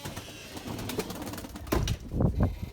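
Erzurum white pigeons coo in low, soft bursts, the last few louder and closer, against a faint background of rustling and chirping.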